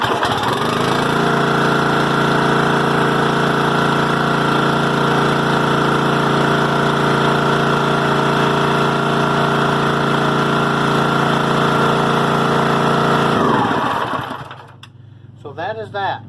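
Small gasoline engine on a Champion 27 ton log splitter running steadily after a carburetor replacement, a loud constant hum that cuts off abruptly, followed by faint handling noises.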